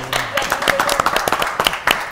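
An audience claps for an Olympic water polo champion introduced on a local television show, with scattered individual claps and some voices and background sound over the short burst.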